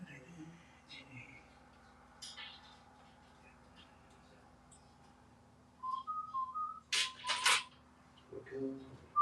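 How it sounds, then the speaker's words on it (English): A person whistles a short, soft tune of a few clear notes while installing a new CPU cooler, heard amid quiet handling noises and bits of nearby talk. "As long as you're not whistling anything copyrighted"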